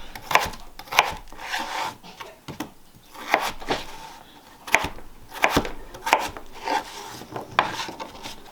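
A knife chops vegetables into similar-sized pieces on a wooden board, a series of close, uneven cuts and scraping strokes coming in bursts.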